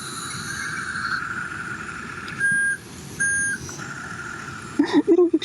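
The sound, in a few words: small remote-controlled excavator reversing beeps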